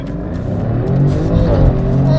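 A modified Maserati's engine rumbles and revs steadily, a loud, low throaty exhaust note with popping that swells slightly toward the end, with no talking.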